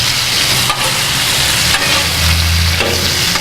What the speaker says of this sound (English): you want to make sure you stir it in so it doesn't completely leave the grill